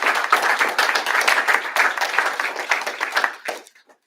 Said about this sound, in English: Now let's give one more warm round of applause to the Class 21021